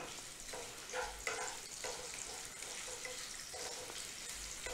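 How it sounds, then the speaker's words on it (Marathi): Chopped onion and two bay leaves fry in hot oil, giving a steady, moderate sizzle with a few brief stirring scrapes throughout, with no talking. "आपलं तेल गरम झालेलं आहे, त्यामध्ये कांदा घालायचा। त्याचबरोबर 2 तेजपत्त्याची पानं टाकायची।"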